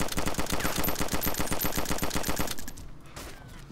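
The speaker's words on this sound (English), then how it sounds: "I think I just shot you." Rapid automatic gunfire from the video game DayZ Standalone fires in a steady, loud burst of evenly spaced shots for about two and a half seconds, then cuts off into a fading echo.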